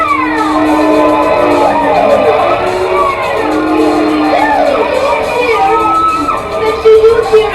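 A crowd cheers and shouts at a GLOW women's wrestling match during a Vicky Victory versus Natasha bout, with loud, sustained whoops and yells filling the arena and a sharper burst near the end.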